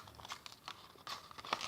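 Ribbon drawn through the holes of a paper menu card, giving close crinkling and papery rustling in short, uneven bursts.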